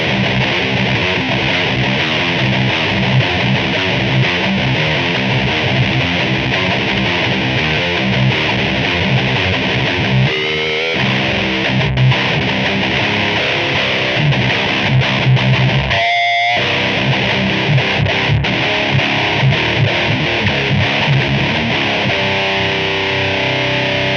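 Heavily distorted metal electric guitar fills the passage with dense, loud chugging riffs, broken by two brief stops into near silence before the playing resumes.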